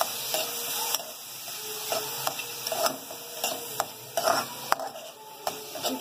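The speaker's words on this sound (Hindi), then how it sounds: "रेड और येलो बेल पेपर। फिर हम उन्हें सॉटे करेंगे।" Red and yellow bell peppers sauté in a pan, giving a soft continuous sizzle broken by sharp clicks and scrapes of a utensil stirring. The sound is close and moderately quiet, with no voices.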